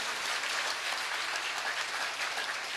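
A crowd at a live religious darbar gathering breaks into dense, sustained applause, many hands clapping steadily and loudly throughout, with no voices.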